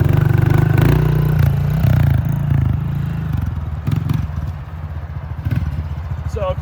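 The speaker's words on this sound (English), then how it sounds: "Let's go for some wheelies now." A motorcycle fitted with a cheap Temu chain revs hard and loud for wheelies, its engine note rising and falling in bursts with scraping and clattering, while a rider talks intermittently.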